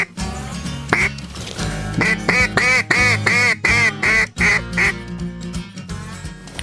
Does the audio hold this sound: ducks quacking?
yes